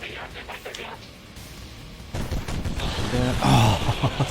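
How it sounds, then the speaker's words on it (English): Gunfire and a large explosion in the XCOM 2 game with a Warhammer mod, quiet at first, then a burst of rattling fire building to a loud blast, with speech mixed in. "Not only killing an enemy, but huge explosion."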